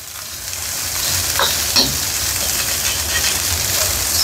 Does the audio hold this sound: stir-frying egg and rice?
yes